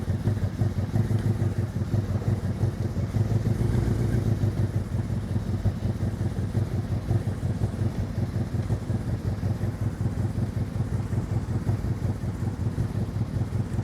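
A motorcycle idles and runs at slow speed in a parking-lot riding practice in Maryland, a steady, close, pulsing engine rumble with wind buffeting the microphone and no clear rise in revs.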